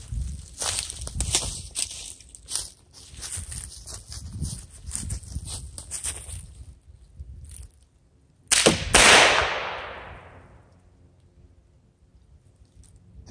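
After some quiet handling noises, a single sharp gunshot from a Colt Police .32 revolver fired at a cardboard target cracks out and its echo rings away for a couple of seconds.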